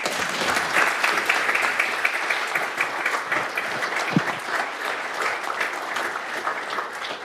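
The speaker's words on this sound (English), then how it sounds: "Everybody clap." A council meeting audience applauds a new police chief, a full, steady round of clapping from a roomful of people that holds evenly for over seven seconds, with one brief thump partway through.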